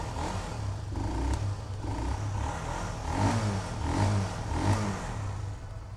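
Honda CBR150 150cc motorcycle engine revving in repeated throttle blips, each rise and fall spaced about a second apart over a steady idle rumble, close and clear with no voices.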